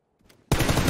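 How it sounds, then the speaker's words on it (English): PUBG gunfire bursts in abruptly after a near-silent moment, a loud, dense, close-up volley that fills the rest of the clip. "I was shooting around him the entire time."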